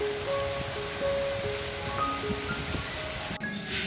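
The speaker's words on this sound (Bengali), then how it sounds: "অনেক বৃষ্টি হইতে আছে।" Heavy monsoon rain pours steadily outside a veranda, a dense, even wash of falling water that continues throughout, with a brief clatter near the end and no talking.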